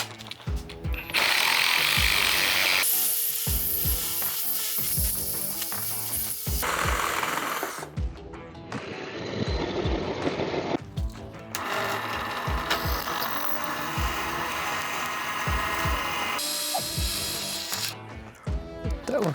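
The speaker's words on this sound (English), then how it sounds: "today I'm gonna use a Sawzall and see if that works better" A Sawzall reciprocating saw cuts through pallet wood in loud, rapid, rattling bursts. The strokes come in several long runs broken by short pauses, and one quieter, thinner stretch falls in the middle.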